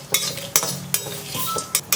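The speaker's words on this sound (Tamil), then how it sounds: "எல்லாத்தையுமே ஸ்லோ ஃப்ளேமில் பொன்னிறமாக வறுக்கணும்." Coconut and spices roasting in a pan over a slow flame, with a spoon stirring and scraping against the metal in repeated sharp clinks over a soft, steady background sizzle; close and fairly quiet, no talking.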